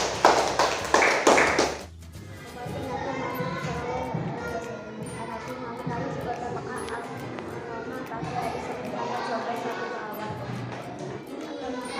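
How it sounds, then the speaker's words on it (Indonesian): A short burst of classroom clapping lasts about two seconds, then gives way to murmuring voices and people talking in the room. "Tepuk tangan untuk kelompok 4."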